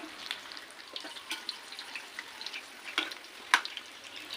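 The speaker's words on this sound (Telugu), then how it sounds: "ఇలా మంచిగా ఫ్రై అవుతున్నాయి కదా" Stuffed chilli bajji frying in hot oil, a low continuous bubbling sizzle with scattered small pops and crackles, one sharper spit near the end, fairly quiet and close with no voices.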